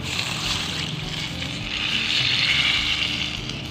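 Water pours into a cooking pot of pork hock sinigang with tamarind, a steady close rushing splash that swells slightly toward the end, with no voices.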